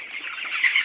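Farm chickens clucking close by, a soft continuous chorus of murmuring clucks with a couple of slightly louder calls near the end.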